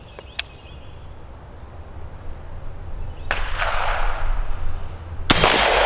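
A rifle with a long-barrel upper is fired offhand at 50 yards, producing two loud, sharp reports a couple of seconds apart, each with a ringing decay, after a faint click.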